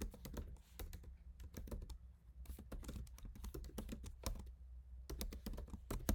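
Rapid typing of code on a computer keyboard, dense bursts of crisp key clicks with brief gaps, close and steady over a low background hum, no voices.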